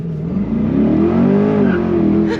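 A 495-horsepower Chevrolet Corvette C8 launches hard using launch control, its engine note rising steadily in a loud, close, continuous surge heard from inside the cabin.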